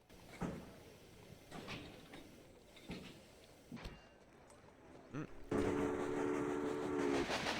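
Steam train running in the video game Railway Empire, a series of soft rhythmic chuffs and clanks at low level, then a louder whistle-like tone and steady rolling noise in the final seconds.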